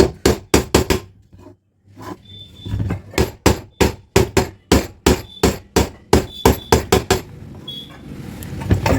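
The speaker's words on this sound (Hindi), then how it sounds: "जहाँ जहाँ ज़्यादा उठा था, उसको मैंने हथौड़ी से मार करके आपको दिखाया।" A hammer pounds a pressure cooker lid flat on a metal surface, landing dozens of close, loud, ringing blows in quick irregular bursts with short pauses and no speech.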